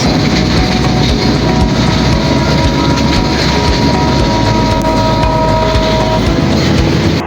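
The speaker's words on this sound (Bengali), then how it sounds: "ট্রেন চলার শব্দে ছোটবেলায় পড়া একটা কবিতার কথা মনে পড়ল" A train rolls loudly along the rails through rural countryside, wheels clattering in a steady rhythm with a continuous rumble underneath.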